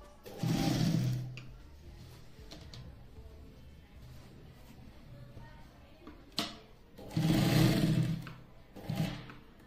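Electric sewing machine stitching around the edges of a fabric piece for a utility bag; two loud bursts of whirring stitching, a quieter stretch with faint handling noise between them.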